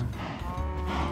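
A Minecraft cow moos once, a short, close, steady low lowing call that fills the moment on its own without talk.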